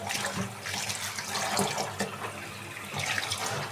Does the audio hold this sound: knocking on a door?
no